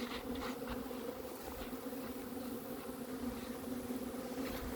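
A dense, steady buzzing of many bees swarming close by around a hive box, droning continuously without pause.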